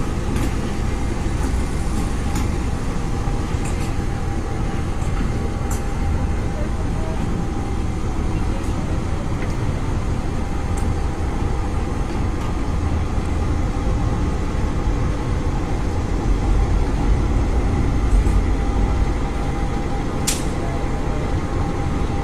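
Diesel-electric locomotives give off a steady, loud, dense rumble with faint clanks and hiss, unchanging throughout.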